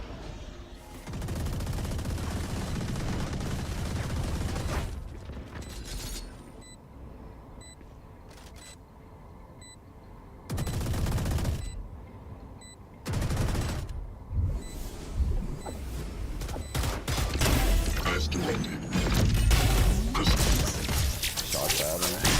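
Gunfire bursts from a Valorant esports match on the map Pearl, sharp cracks and rapid volleys scattered through the clip amid loud crowd and caster noise, with dense broadband roar between shots.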